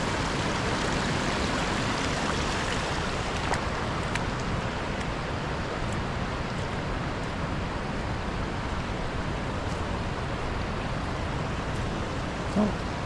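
Small falls at Rock Island splashing among trees, continuous hissing wash of cold water that holds steady throughout, close and unbroken, with a faint brief knock near the end and no one talking.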